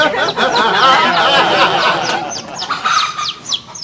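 Dense, continuous high-pitched peeping and chirping from many chicks, close and loud, with brief quick calls rising over the steady chatter.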